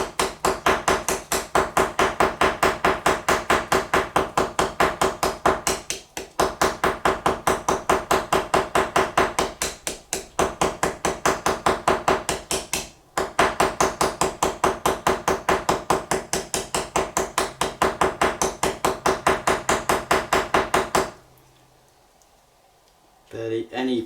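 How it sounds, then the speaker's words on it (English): A light hammer taps rhythmically at the pins while re-scaling a Joseph Elliot barber's straight razor on the bench, giving a rapid, even run of small metallic taps with brief pauses, then stopping near the end. "Barely any pressure, just the weight of the hammer basically."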